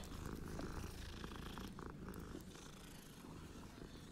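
A cat in the video game Hogwarts Legacy purrs in a soft, continuous low rumble, steady and close, with no talking over it.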